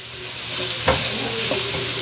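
Garlic sizzling in a pan while being stirred for a shrimp and crawfish étouffée, with Worcestershire sauce added; a steady, close frying hiss with a few scraping stir sounds.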